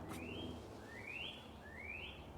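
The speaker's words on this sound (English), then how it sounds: "listen to the birds." Three rising whistled bird calls repeat at an even pace outdoors, faint and distant over a low steady background rumble.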